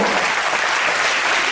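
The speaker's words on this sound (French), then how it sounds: "Bravo Elodie, on peut l'applaudir, hein, parce qu'elle a fait du boulot là" A gymnastics gala audience applauds a performer named Elodie, a brief, loud, dense burst of clapping filling the whole moment.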